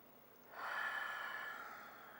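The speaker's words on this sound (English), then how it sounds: "Breathe in through the nose and out through the mouth." A slow, audible breath during a relaxation and Savasana practice, swelling from quiet into a long, airy exhale that tapers off gradually, close and alone with no talking.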